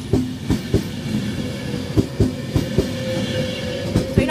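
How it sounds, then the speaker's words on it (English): A Virgin Pendolino train rolls through Stafford station on the London Euston to Liverpool Lime Street line, its wheels giving a steady clickety-clack of rhythmic rail-joint beats alongside a low rumble, close and fairly loud, with no voices. "That was the train I took from Tamworth."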